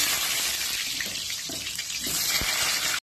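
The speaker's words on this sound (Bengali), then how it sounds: "আলুগুলি আমি এখন ভেজে ফেলবো, কেননা তেলটা অনেকটা গরম হয়ে গেছে" Cut potatoes fry in hot oil in a kadai, giving a steady dense hiss and sizzle that runs the whole time, with a few faint clinks and knocks under it and no voices.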